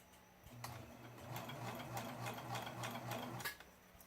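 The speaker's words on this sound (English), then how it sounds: "So here I am, just carefully stitching" A serger sewing machine stitches a rolled hem with beading, a steady close mechanical whir with rapid ticking that runs for about three seconds, then stops and leaves quiet room sound.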